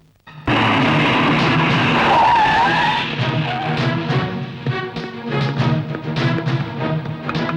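A car skids hard to a stop beside a police jeep, a loud sustained tire squeal with engine roar that starts abruptly and trails off into rattling, clattering noise.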